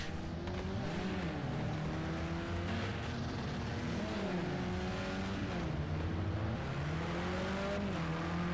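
Touring race cars pull off the starting grid at the Nürburgring in Project CARS 2, with several engines revving and rising in pitch as they accelerate, continuous and dense, some near and some farther off, with no talk.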